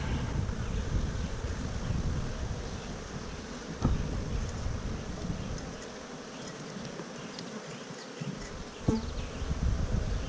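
A dense swarm of honeybees hums and buzzes continuously up close during a hive inspection, with gusty wind rumbling against the microphone and a few faint taps.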